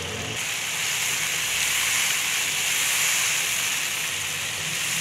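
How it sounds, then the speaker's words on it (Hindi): Masala roasting in a pan for dhaba-style fried dal mash, a steady close sizzle and hiss that runs unbroken and fairly loud throughout, with no talking. "4 से 5 मिनट के लिए हम इसको मज़ीद भूनेंगे ताकि मसाले का कच्चापन दूर हो जाए।"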